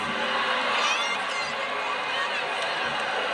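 Arena crowd at a women's college gymnastics meet, Oregon State versus Utah in Corvallis, giving a steady, loud murmur and cheer that fills the space without a break.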